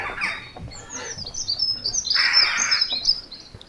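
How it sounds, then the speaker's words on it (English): Birdsong from a dunnock, rook and jackdaws outdoors, with high chirps and calls from several directions, moderately near and continuous, one burst of harsher calling in the middle. "Rook to the right, Dunnock straight ahead, jackdaws to the left."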